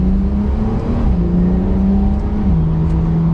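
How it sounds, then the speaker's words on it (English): A 2021 Porsche 911 Carrera with a PDK paddle-shift gearbox pulls hard from second gear, heard from inside the cabin. The engine drone climbs steadily, with two quick upshifts briefly dropping the pitch, and stays loud and continuous. "We'll have to do another acceleration from second gear here."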